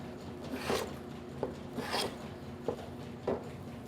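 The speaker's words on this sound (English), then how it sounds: "So now I just need to refile my string grooves there." A file rasps string grooves into a wooden bow made from a hardware-store board, giving short, quiet scraping strokes at an uneven pace with small knocks between them.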